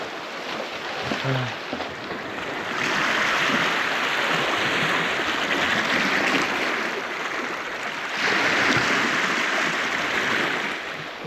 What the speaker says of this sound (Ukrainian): Стою і слухаю море.